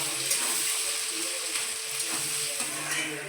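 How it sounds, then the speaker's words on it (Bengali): Onions sizzle and fry in a pan for chicken biryani, a steady broadband crackle holding at an even level throughout with no voices over it. "পেঁয়াজগুলো দিয়ে দেবো। পেঁয়াজগুলো ভাজা ভাজা হবে"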